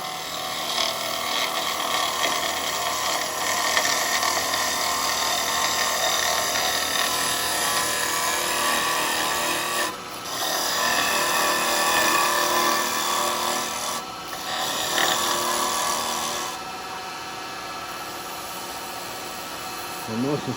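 A bowl gouge with a large cutter shears wood on a lathe, shaping the bottom corner of a natural edge bowl: a steady, close, rough scraping hiss that drops away briefly twice before carrying on more quietly.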